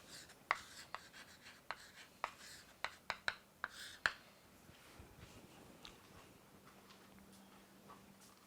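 Sharp taps and scratches of handwriting as a mathematician writes the word proof, about a dozen quick strokes in the first half. The strokes are close but quiet, then trail off into a soft hum.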